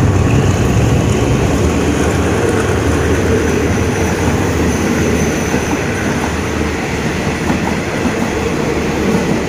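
GEA 4527 diesel locomotive hauling a long-distance passenger train past Ban Khu Bua, Thailand, a loud, sustained rumble with steady wheel clatter and rail noise throughout.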